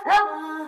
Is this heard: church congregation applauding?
no